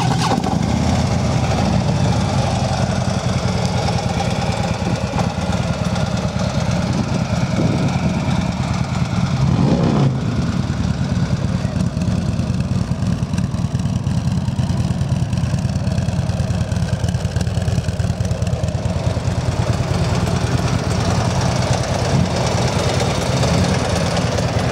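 A Harley-Davidson CVO Ultra Limited FLHTKSE motorcycle with a 110 engine idling, a continuous low rumbling throb held steady throughout, loud and near, with no talk.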